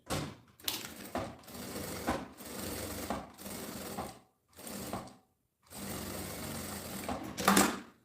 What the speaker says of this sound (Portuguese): Essa costura que eu vou fazer aqui agora, eu vou usar o calcador de zíper.